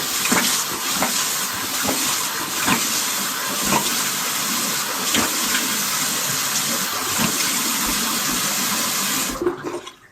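Lukewarm water runs steadily from a tap and splashes as a face is rinsed at a sink, a continuous close hiss of flowing water that stops near the end.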